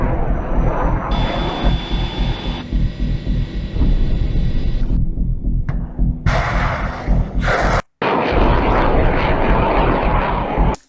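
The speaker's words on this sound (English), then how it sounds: "this is the F-22, the America's 5th generation fighter" Loud, sustained roar of an F-22 fighter jet, the US fifth-generation fighter, dominating throughout with shifting intensity, broken by abrupt cuts and one brief silent gap near the end; no talking.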